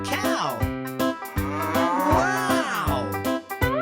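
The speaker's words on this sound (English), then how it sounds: "I see a cow." A cow moos repeatedly in long, drawn-out calls that rise and fall, close and clear, with short gaps between the lows.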